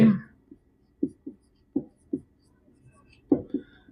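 Faint, spaced pen strokes tap and scrape on a writing surface during a Bengali grammar lesson, about eight short marks in an irregular rhythm, with a brief voice at the very start.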